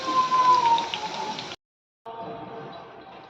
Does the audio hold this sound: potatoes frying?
yes